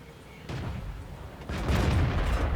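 Tank cannons fire in World of Tanks: two sharp, booming shots about a second apart, the second louder and followed by a sustained rumbling tail.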